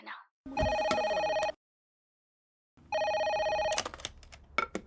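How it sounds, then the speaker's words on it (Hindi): A telephone rings in two long electronic bursts separated by a silent gap, each a bright, buzzing repeated tone, with brief speech just before and a voice speaking after the second ring. "अरे फोन उठाओ ना"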